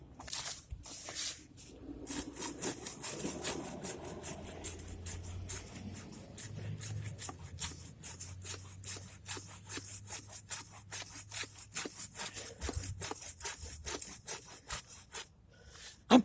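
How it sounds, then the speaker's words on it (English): A Gerber Back Country Essentials folding saw cuts through a thick branch in fast, even back-and-forth strokes, each rasping pass close and loud, with a low background hum and no talking. "I'll show you the sawing part is just nasty."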